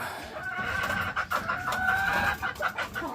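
A breeding hen at Emery Game Farm clucks repeatedly in a nasal, pulsing run of calls, fairly loud and near, with faint farm background and no talk.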